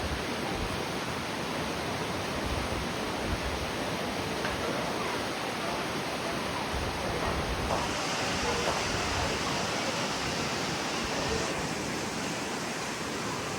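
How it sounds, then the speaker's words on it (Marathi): Small monsoon waterfalls cascading down mountain slopes near the Marleshwar temple, a steady broad rushing roar with no breaks, constant and fairly full throughout. "छोटे छोटे धबधबे या पर्वतरांगेंवरून कोसळताना दिसत आहेत."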